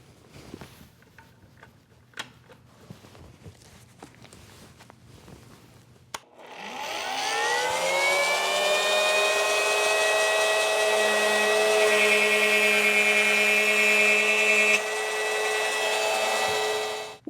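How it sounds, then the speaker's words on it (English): A shop-built mortising machine driven by a router motor spins up after some quiet handling noises, then whines steadily and loudly while cutting a mortise in wood, winding down at the end. "let's fire it up and make a mortise"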